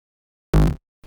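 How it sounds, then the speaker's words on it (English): Synth bass shot from a slap house track, a single loud tonal hit with rich low end lasting about a quarter second, followed by a brief quieter tail after a short gap. "And for transitioning, I don't know if that's the word, we have this bass shot"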